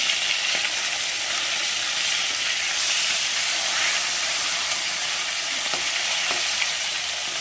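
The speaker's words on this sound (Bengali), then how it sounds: "মাছটা আমার এক পিট প্রায় ভাজা হয়ে গেছে" Poa fish frying in hot oil gives a steady, loud sizzle and hiss that carries on without a break, with no voices.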